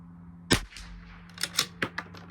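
A Bergara B14R rifle fires once, a sharp, loud crack, followed by quieter echoing reports and clatter over a steady low hum.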